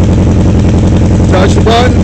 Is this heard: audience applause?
no